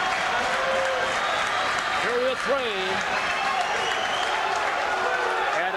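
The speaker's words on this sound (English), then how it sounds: "the crowd on both sides getting into it now" Spectators at a high school wrestling dual between Tomah and Holmen cheer and applaud steadily throughout, a loud, dense roar while an announcer talks over it.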